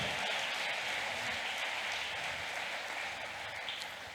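A crowd applauds steadily at a youth awards ceremony in Ghana, a dense, sustained wash of clapping that holds level for the whole stretch and fades slightly toward the end.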